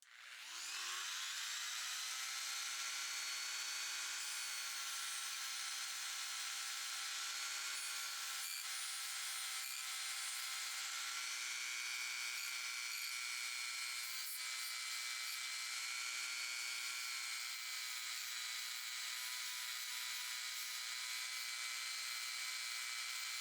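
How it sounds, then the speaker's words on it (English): A WEN 2307 rotary tool spinning a sanding disc on a mandrel, a continuous high-pitched electric whine held steady throughout, with a few brief scratchy touches as the disc meets the workpiece. "I installed one of them on my replacement mandrel with no washer, just to give me more room to sand."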